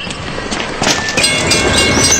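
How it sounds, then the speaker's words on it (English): A train passes nearby, a steady rolling rumble with faint clickety-clack and a high wheel hiss that grows louder partway through, with no voices over it. "Trains are big, deceptively fast, and can't stop quickly."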